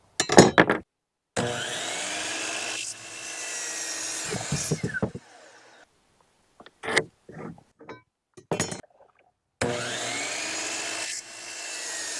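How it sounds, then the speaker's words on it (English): 2x4 wooden boards being cut to length for a five-gallon bucket garden build, several loud bursts of sawing separated by pauses and short handling noises, no one talking. "let's get it cutting our 2x4s"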